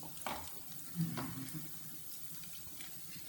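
Curry leaves and garlic sauté in a pan for kuzhambu, a soft steady sizzle with a few stirring scrapes and clinks, fairly faint and close, with no speech.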